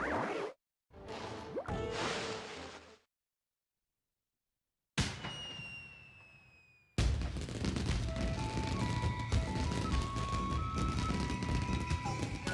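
Fireworks burst in the video game Ōkami with whooshing launches and sharp bangs separated by short silences, then a dense run of crackling explosions over game music.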